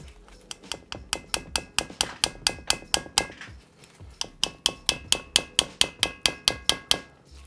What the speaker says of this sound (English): I could like press this in so it's as tight as it can go and then hammer on the top of it